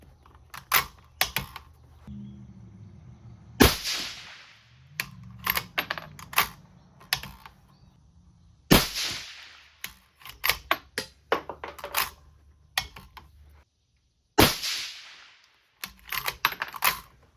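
Rifle shots from an AR-platform rifle in 22 ARC firing 80.5 gr Berger bullets, a series of sharp, loud cracks at irregular intervals with quieter handling noise between them.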